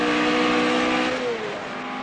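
A 1960s Alpine Renault race car engine with a Gordini motor revs hard nearby, its pitch climbing and then easing off as it pulls away.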